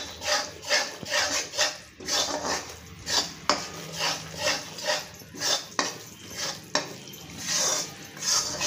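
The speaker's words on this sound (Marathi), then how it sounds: "गुलाबी कलर येईपर्यंत आपल्याला हे डाळीचं पीठ भाजून घ्यायचं आहे" Moong dal flour roasting in a pan, stirred with quick, rhythmic scraping strokes roughly twice a second, close and clear with no talking.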